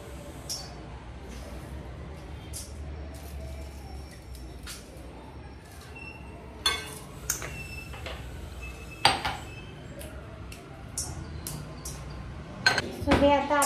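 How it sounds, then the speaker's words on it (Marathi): Whole spices including cumin dry-roasting in a pan for Hyderabadi chicken biryani masala, quiet rattling and scattered spoon clinks against the metal over a low background hum, growing busier near the end. "आता हे सगळे जे मसाले आहेत हे आपण ड्राय रोस्ट करून घेऊया"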